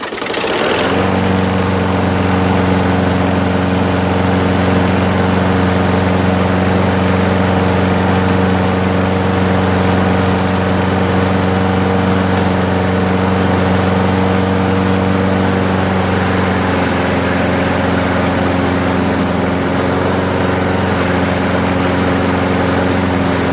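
A Craftsman Quantum self-propelled lawn mower engine runs after a carburetor cleaning, holding a steady, loud idle with a constant low drone throughout.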